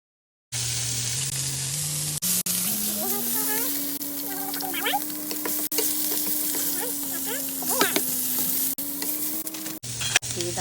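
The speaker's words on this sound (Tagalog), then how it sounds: "maggigisa na ako ng gulay." Steady loud sizzling of vegetables being sautéed in a hot pan, with occasional stirring scrapes and a voice talking over it.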